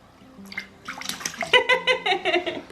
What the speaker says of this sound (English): Water. Water. Splash. Splash, splash, splash.